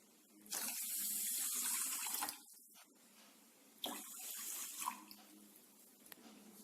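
Water pours into a pan in two bursts, a loud steady stream splashing in, then a softer second pour.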